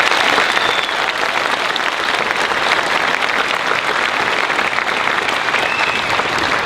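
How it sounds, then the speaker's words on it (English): Steady, loud applause from a crowd at a 2024 Ennis graduation ceremony fills the space continuously for several seconds, dense hand clapping with no pauses. "How about a round of applause for this awesome community"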